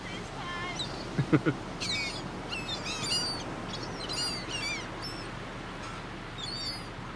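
Many birds being fed by people near a lighthouse chirping, squawking and quacking in a noisy outdoor crowd, with a few sharp calls standing out over a steady background murmur.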